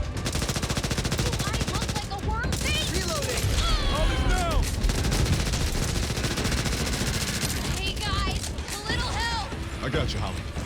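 Rapid automatic gunfire rattles almost continuously in the zombie shooter game Back 4 Blood, dense and loud, while players talk over it and game effects chirp and sweep.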